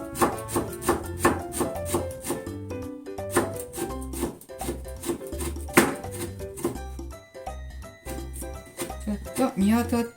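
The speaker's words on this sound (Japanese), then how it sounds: "それではこれを刻んでいきますね。" A knife chops summer orange peel rhythmically on a cutting board for marmalade, sharp repeated taps with short pauses, alongside soft background music.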